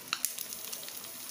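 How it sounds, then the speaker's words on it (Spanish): Bacon and onion frying in a pan give a steady crackling sizzle with a few sharper pops, close and moderately quiet, with no voices. "En otro sartén freímos más tocino"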